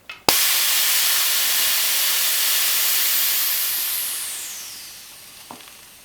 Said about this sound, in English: take the valve off, press it in, make it lose air